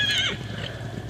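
A horse from a free-range herd at a riding ranch gives a short, high whinny at the very start, then trails off into low, steady background rumble.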